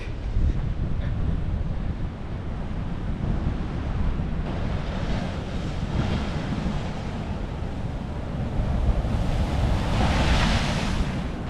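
Ocean surf rolls continuously onto a Los Angeles beach, a loud, broad wash of breaking waves with wind buffeting the microphone and a rising surge near the end.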